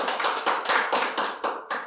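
An audience at a Korean religious gathering claps together in a quick, steady rhythm, about eight sharp, loud bursts close by with no voices.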